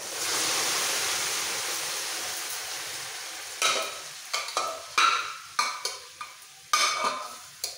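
Boiled vegetables for pav bhaji are stir-fried with ginger and garlic: a steady hiss that fades, then a run of sharp scraping stirs at a roughly even pace, close by.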